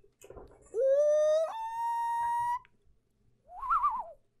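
A man imitates a common loon call with a whistle: a rising, wailing tone held steady for about two seconds, then, after a pause, a shorter wavering, warbling cry.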